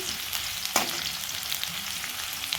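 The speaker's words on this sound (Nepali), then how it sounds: "हल्का चलाइदिन्छु।" Oil and cumin sizzling in a frying pan as upma is stirred, steady close hiss with a few scraping stir strokes, no voice.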